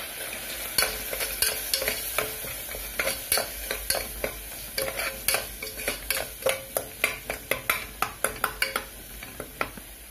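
A spoon scrapes and stirs chickpea masala in a frying pan over a low flame, making repeated rhythmic clacks and scrapes against the pan over a soft sizzle, close and clear with no talking.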